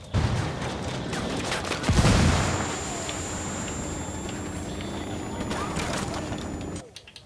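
Gunfire in the video game Ghost Recon Wildlands, a burst of shots with a louder volley early on over a dense, steady battle rumble, with a high electronic tone above.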